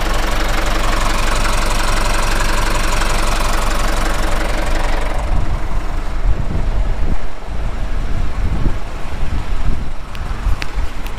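A 2003 Deutz Intrac tractor engine runs loudly and close while driving a lap, a dense rough diesel drone that shifts to a lower, knocking rumble partway through.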